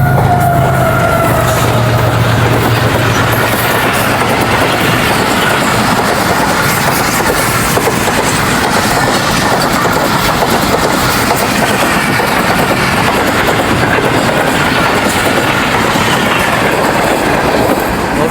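A train led by locomotive 9010 thunders past a level crossing, loud and close, with continuous rumbling wheels and rhythmic clatter over the rails, a brief horn tone near the start and wheel squeal mixed in.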